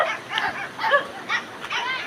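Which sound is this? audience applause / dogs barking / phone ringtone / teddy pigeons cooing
dogs barking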